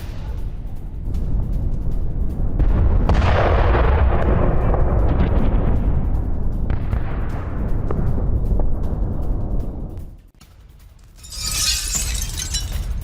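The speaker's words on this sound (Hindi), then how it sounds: "पोक्रोवस्क में Su-27 से बमबारी की गई। हमले में रूसी सेना को भारी नुकसान पहुंचा।" Heavy blasts from a Su-27 bombing airstrike on Pokrovsk rumble and roll on for several seconds, fading into a lull before another sharp burst rises at the end.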